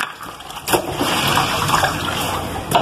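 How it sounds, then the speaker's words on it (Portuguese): Water drains and gushes from a basin after laundry is hand washed, a continuous sloshing flow with a few sharper splashes, close and fairly loud. "Então, vou soltando já essa água."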